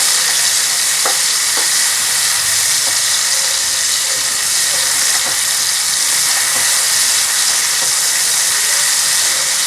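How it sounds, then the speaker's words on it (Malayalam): Button mushrooms stir-fried in oil over a high flame give a loud, steady, bright sizzle that fills the whole stretch, with light scrapes of stirring cutting through now and then. "ഹൈ ഫ്ലെയിമിലിട്ട് വേണം നമ്മളിത് ഫ്രൈ ചെയ്യാനായിട്ട്"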